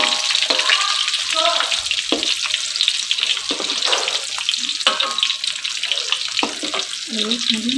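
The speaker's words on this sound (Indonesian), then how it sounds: "Siram-siram dia masih digoreng." Battered chicken for crispy fried chicken sizzles and crackles in hot oil, a loud continuous close-up frying hiss with occasional stirring and bubbling bursts.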